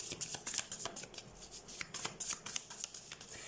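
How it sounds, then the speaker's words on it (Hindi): Tarot cards being shuffled by hand in a quiet room, a soft rhythmic run of riffles and slaps repeating through the whole stretch, close and fairly gentle. "तो सबसे पहले हम कार्ड शफल कर लेते हैं"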